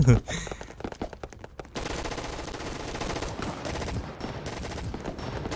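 Rapid automatic gunfire in a video game shooter, a loud, dense stream of shots that starts as separate bursts and then runs into a sustained continuous rattle, with no speech over it.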